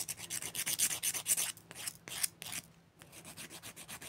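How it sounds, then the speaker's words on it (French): A fiber rubber gel fingernail being filed: quick, rhythmic back-and-forth rasping strokes close up, with a brief pause before the scraping resumes. "Je vais juste le limer un petit peu."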